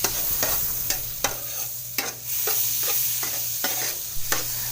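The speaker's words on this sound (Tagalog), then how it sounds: "ilagay lang natin ang margarine sa kawali" Margarine melting in a frying pan while being stirred for tokwa sisig, with a steady sizzle under about a dozen sharp scrapes and taps of a utensil against the pan, close and moderately loud, no voices.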